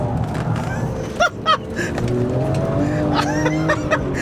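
A BMW E46 M3 is driven hard around a roundabout, its engine revving and wavering in pitch while tires chirp and squeal in short bursts, close and loud, with people talking over it inside the car.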